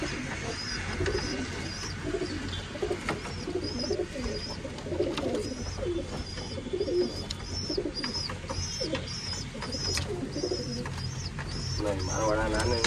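Racing pigeons coo steadily and repeatedly in a coop, with soft wingbeats and rustling throughout, and someone talks intermittently over the birds.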